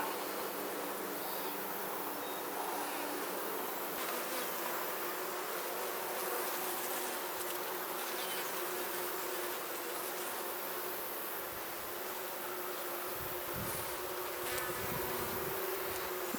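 Honey bees buzz steadily and densely around an open beehive during a hive inspection, a constant close swarm drone with no speech, frames full of pollen and nectar being handled.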